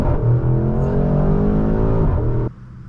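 A 2022 Porsche Cayenne GTS Coupe pulls hard under acceleration, its engine note loud and rising steadily for over two seconds before abruptly dropping off, with no talk over it.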